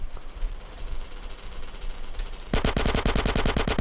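Rapid automatic gunfire in GTA San Andreas bursts in after a stretch of quieter game noise, a loud, evenly spaced string of shots lasting over a second to the end.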